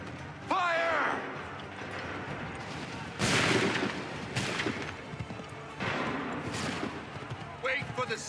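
Musket volleys from Revolutionary War troops at Lexington and Concord in Assassin's Creed III, several loud broadband bursts rolling out in separate waves with shouted commands and voices in between.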